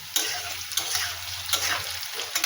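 Potatoes frying in hot oil with whole dried chillies and whole cumin seeds give a steady, close sizzle with light crackling and occasional stirring scrapes, and no voices.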